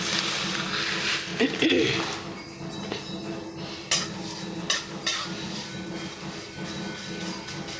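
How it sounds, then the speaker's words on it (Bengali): Vermicelli sizzling in hot ghee and white oil in a wok, a soft steady hiss with occasional clinks of a utensil, heard under continuous talk. "সিমুইটা আমি দিয়ে দিলাম তেলের ওপরে।"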